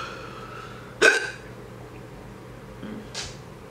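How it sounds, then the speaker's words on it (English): Two hiccups from a person, one sharp and loud near the start, then a softer second one a couple of seconds later, with quiet room tone between. "Excuse my fucking hiccups. They're coming out wildly."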